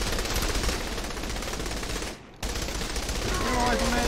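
Dense, continuous gunfire from Saints Row The Third fills the mix, with a brief drop to near silence partway through before the shooting resumes just as loud.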